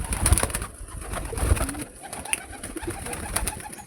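Pigeons coo steadily up close, a continuous low throaty murmur with a few louder bursts, male and female birds together, with no voices.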